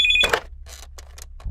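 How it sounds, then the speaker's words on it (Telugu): A landline telephone rings at home with a bright, warbling electronic ring, followed by a short burst of noise and faint scattered sounds as the ringing stops. "ఆ ఫోన్ వచ్చి కింద ల్యాండ్ ఫోన్ అండి"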